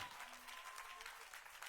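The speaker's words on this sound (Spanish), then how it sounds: "Dale un aplauso al Señor ahí donde estás" A church congregation claps for the Lord during an evening service, a dense, continuous wash of applause from many hands, fairly soft and steady throughout with no voices standing out.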